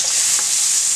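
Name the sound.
garlic stirred and sizzling in heated butter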